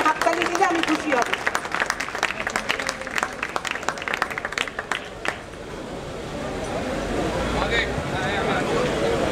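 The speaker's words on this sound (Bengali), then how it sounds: "সবাই একটা দারুণভাবে অভিনন্দনের হাততালি দিলে আমি খুশি হব।" Audience applause at a 70th birthday celebration event in North Kolkata, dense clapping filling the first half, then fading into a steady crowd hubbub and room noise.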